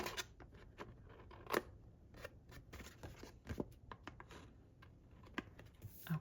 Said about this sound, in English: So I'll bring out my paper snips